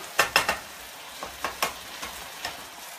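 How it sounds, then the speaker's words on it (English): Sausage crackles in a hot pan with scattered sharp pops and scraping stirs, fairly quiet and close, with no talking. "This sausage is frying up nicely."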